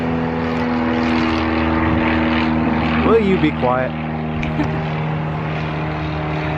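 A propeller airplane drones steadily overhead, with people talking over the noise.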